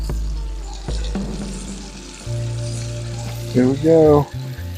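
Whole catfish frying in a pan of hot grease, a steady crackling sizzle close by throughout, with a voice speaking briefly over it and a few louder exclaimed words near the end.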